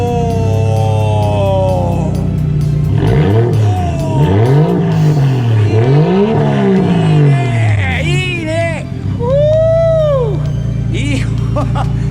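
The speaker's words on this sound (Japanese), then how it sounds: "マフラーもいいね。 これはこの出し方がなかなかいい音します。" A VIP-style custom car at a car meet revs through its aftermarket exhaust muffler, the engine note rising and falling in several swells under steady crowd chatter and nearby talking.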